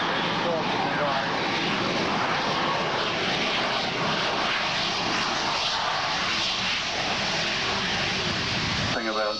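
A fixed-wing aircraft with a distinctive engine drones steadily past at an airshow in Wem or RAF Valley, a broad roaring wash that holds for several seconds and cuts off abruptly at the end.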